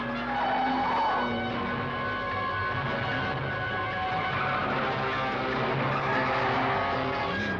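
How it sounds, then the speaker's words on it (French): Car tyres squeal through a controlled skid, a sustained, loud screech with a steady engine drone beneath it, lasting the whole stretch without a break. "c'était un dérapage contrôlé"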